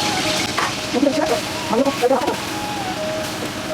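Pieces of magur catfish sizzle and spit in hot oil in a pan on low gas, a steady frying hiss with brief crackling bursts, close and fairly loud.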